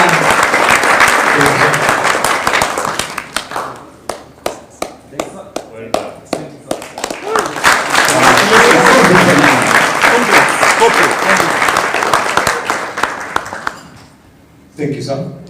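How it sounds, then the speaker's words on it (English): Loud audience applause at a gala dinner, a full burst of many hands that thins into a few distinct claps, swells again into sustained clapping, then drops off with a voice at the end. "applause to the man."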